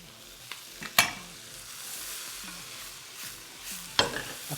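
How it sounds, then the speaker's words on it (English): Mushrooms hitting a hot wok with softened onions, a continuous close sizzle with sharp metallic clanks and scrapes as the pan is tossed and stirred, no voices. "Now in goes my mushroom."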